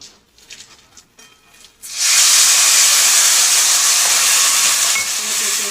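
Water poured into a pan of frying papaya with poppy seeds sets off a sudden loud, sustained sizzle and hiss that holds steady to the end, after a few quiet clicks and stirring sounds.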